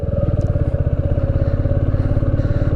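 A motorcycle engine thumps in a steady, rapid rhythmic pulse on a mountain road with a possible engine fault, loud and close throughout with no talking.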